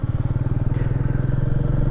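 A Royal Enfield Meteor 350 cruiser's single-cylinder engine idles close by, a loud, even, rhythmic thumping pulse that holds steady throughout.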